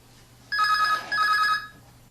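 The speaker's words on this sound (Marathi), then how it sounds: "सूरसंवादसाठी फोन लागलाय अकोला आकाशवाणीला." A telephone rings for a call-in show on an Akola radio station. Two short electronic trill bursts sound clearly and close, one right after the other, over a faint low hum, and no one speaks.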